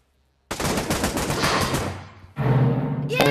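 AK rifle firing in Pavlov, a VR shooter, sustained loud automatic bursts close up, a short pause, then more rapid fire.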